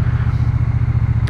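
A 2020 Triumph T120 Bonneville 1200cc twin putters along in second gear under 2000 rpm, its steady low pulsing thump loud and close with a rhythmic beat throughout.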